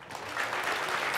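At the opening of a QA conference, a crowd applauds the sponsors in a brief burst of dense clapping that swells and holds steady, filling the hall.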